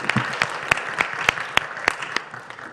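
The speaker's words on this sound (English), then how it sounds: "I think we should give our panelists a round of applause." A small panel-session audience claps for the panelists in a sparse patter of individual claps, fairly close and steady for a few seconds, with no voices over it.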